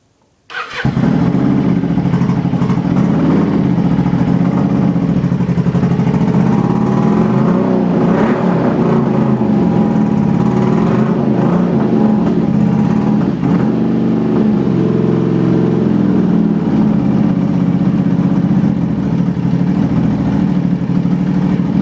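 A Kawasaki Vulcan 750 motorcycle with a carburetor in need of tuning starts and then idles steadily and loudly up close, its lumpy engine note holding for about twenty seconds with slight revs around the middle.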